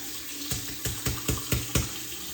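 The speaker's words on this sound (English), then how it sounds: "I'm running water over the cartridge" Tap water runs over a razor cartridge at a sink during a head shave, a steady faucet hiss broken by about five brief splashy bursts as the blade is rinsed in a regular rhythm, close and fairly quiet.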